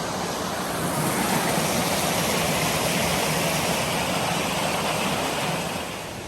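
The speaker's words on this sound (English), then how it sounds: "Pretty rapid creek here." A fast creek in the woods at Upper Sols Creek near Canada, North Carolina, rushes nearby. The loud, steady white-noise roar swells in and holds with no break.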